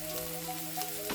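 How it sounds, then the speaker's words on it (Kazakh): Chopped onions fry in a little oil in a hot pan, giving a steady, close sizzle with a few faint clinks over a low background hum, and no voices. "Енді қызып тұрған табаға кішкене сұйық май құйып, майдалап туралған пиязды қуырып бастаймыз."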